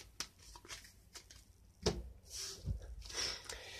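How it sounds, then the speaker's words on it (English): A deck of Onirim board game cards gets a light shuffle, soft papery riffles and slides in quick uneven bursts, close by and quiet, with no talking. "we give them a light shuffle."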